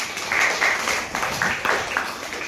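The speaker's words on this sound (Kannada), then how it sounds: "ದೊಡ್ಡ ಚಪ್ಪಾಳೆಯನ್ನು ಹೊಡೆಯಿದ್ದಾರೆ." Applause from an audience at a farewell function for trained students, steady and fairly loud with clustered bursts of clapping for about two and a half seconds, with no talking over it.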